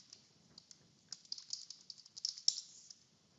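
Typing on a computer keyboard while entering a PowerCLI command: quick, close keystrokes in bursts, busier toward the end, with a quiet room behind them and no talking.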